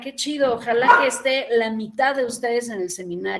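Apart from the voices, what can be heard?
None of the usual background noises is heard.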